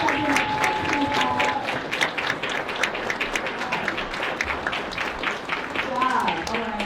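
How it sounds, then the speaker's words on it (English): Concert audience at a Florence Price birthday tribute breaks into a sustained, dense round of applause, steady clapping filling the room with some cheering and a brief voice near the end. "So give them another round of applause."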